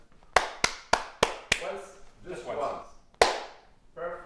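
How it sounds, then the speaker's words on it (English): Hands clap sharply and close by, a quick run of five separate claps followed by one more after a short gap, with a voice heard between them. "Can you clap your hands?"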